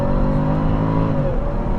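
2010 Jaguar XFR accelerating hard from a standstill with heavy wheel spin, a loud, steady engine roar heard from inside the cabin with no pause in the pull.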